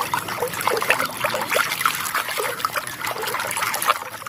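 Water trickles and splashes steadily at close range as muddy toy vehicles are washed, with no talking.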